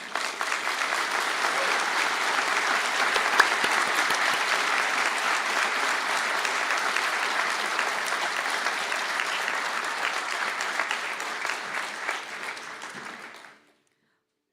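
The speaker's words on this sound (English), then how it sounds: "stand for a round of applause" A large audience applauds graduates of a Civil Engineering programme at a Galway conferring ceremony, dense sustained clapping that holds steady for about thirteen seconds before quickly dying away.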